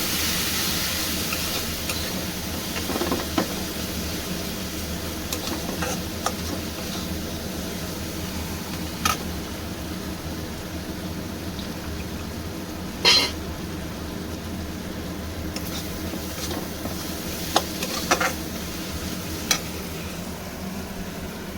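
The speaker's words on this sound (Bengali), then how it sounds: "একটু জল দিয়ে মশলাটা কষাবো।" Spice paste of chili powder, Kashmiri red chili and turmeric with a splash of water sautéing in a pan, a low continuous sizzle and hiss with occasional clinks and scrapes of stirring.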